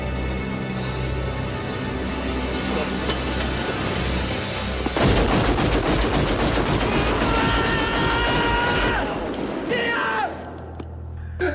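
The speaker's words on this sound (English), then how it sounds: "should we have a bit of Keanu Reeves firing his gun up in the air and going" Gunfire from a Keanu Reeves film as a gun is fired into the air: dense, loud rapid bursts of shots with booming impacts over a movie soundtrack, giving way to a rising musical and electronic swell at the end.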